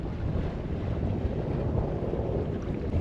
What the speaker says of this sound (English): We're sailing so nice now. Nearly 6 knots, got the tide helping us.